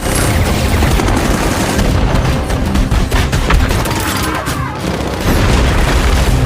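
Rapid bursts of heavy gunfire from a helicopter in a film rattle continuously over a loud, booming background roar.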